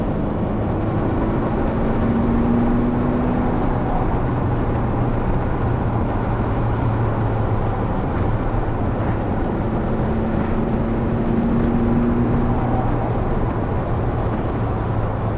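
Ferrari F40 engine cruising with a steady low drone and faint wastegate chatter, continuous and fairly loud, with gentle pitch rises and falls under heavy wind rush and no talking.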